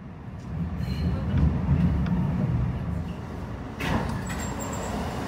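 A New York subway 2 train runs toward Brooklyn College, Flatbush Avenue, heard from the front with a steady low rumble and rattling wheels on track, swelling once in the middle before settling back.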